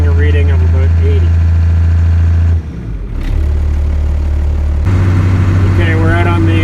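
A first-generation Cummins diesel engine runs steadily at about 1500 RPM, a loud continuous low drone with a short dip partway through, then a slightly higher, stronger hum, with someone talking over it.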